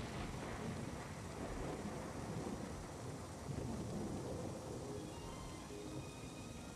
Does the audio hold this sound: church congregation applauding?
no